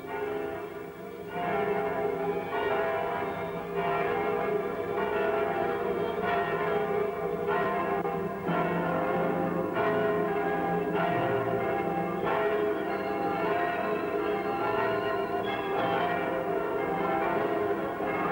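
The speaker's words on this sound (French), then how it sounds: "toutes les cloches de France se sont mises à sonner" Church bells peal across France for a grand anniversary celebration, a sustained and overlapping clangour of several bells ringing steadily and loudly for the full stretch.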